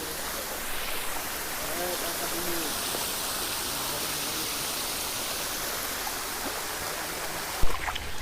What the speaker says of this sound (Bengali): বস্তার ওপর দিয়ে কিভাবে হুড়ুড় হুড়ুড় করে জল গড়ছে